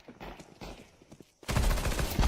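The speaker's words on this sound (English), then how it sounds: "Oh, that was a huge headshot." Burst of gunfire from a shooter video game ending in a headshot: a quieter stretch of scattered shots, then a loud sustained volley of rapid gunfire closing out the moment.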